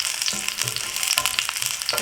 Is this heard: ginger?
yes